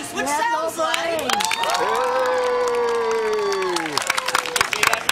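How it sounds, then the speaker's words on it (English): Loud audience cheering and applause at a celebration of life for a martial arts master swell after a lever pull, with whoops, shouted voices and sharp clapping near the end. "I just pulled this lever and they started applauding."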